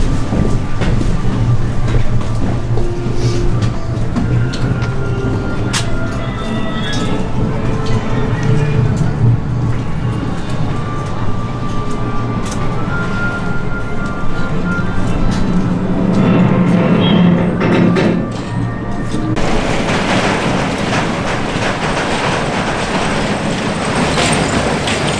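The Scorpion Express roller coaster runs a continuous loud rumble on its track with rattling and clacking, heard from on board across several laps, then shifts to a brighter, windier roar near the end, with occasional voices.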